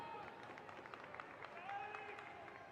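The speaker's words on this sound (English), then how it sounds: "those fans deserve a huge round of applause for the trip today" Travelling Nottingham Forest fans applaud in a stadium during a women's football match, faint scattered clapping and crowd murmur heard from a distance, continuous over the short stretch.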